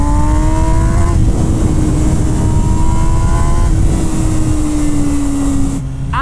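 A 208 hp MV Agusta Brutale 1000 RR motorcycle engine howling at high revs in second gear, a loud sustained close-up roar with pitch sweeps before briefly dropping off near the end.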